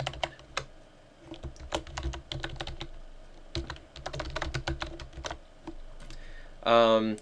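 Bursts of rapid clicking on a computer keyboard, close and crisp with short pauses between runs, and a brief voice near the end.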